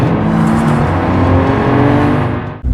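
A 2027 Mercedes-AMG GLC 53 with a 3.0L inline-six engine, holding a loud, steady, throaty drone close up for a few seconds before dropping off sharply at the end.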